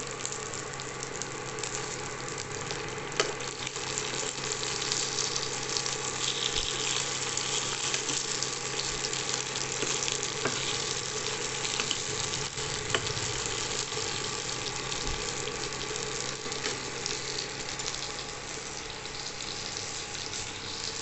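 Stuffed brinjal curry sizzles in a pan while being stirred, a dense, constant frying hiss that holds steady for the whole stretch with occasional faint scrapes.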